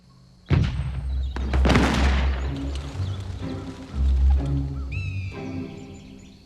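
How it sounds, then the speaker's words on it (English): Distant gunfire heard from far off in a countryside setting, a sudden boom followed by rumbling thuds and a second heavy blast, with birdsong and a chirping whistle at the end. "Just then, Peter heard gunfire from far away, saw flashes of smoke in the distance."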